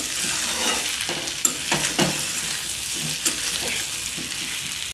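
Spices sizzle and fry steadily in a pan with oil for a Bengali fish curry with green banana, potato and bitter gourd, a constant close hiss broken by a few stirring scrapes.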